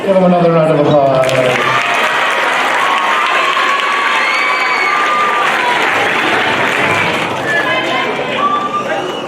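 A voice speaks briefly before a middle school spring band concert crowd breaks into loud, sustained applause with cheering and scattered shouts, holding steady to the end.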